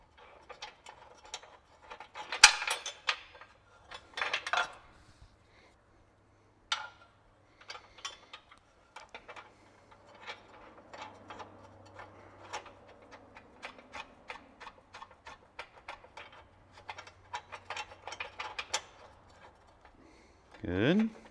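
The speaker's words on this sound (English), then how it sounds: "Getting this flange nut on the back here is another one of those tricky fasteners." A flange nut worked on behind an AEV Stubby bumper during a Warn winch install, giving a long run of rapid metallic ticks and ratchet-like clicks up close, with occasional louder knocks and brief talk.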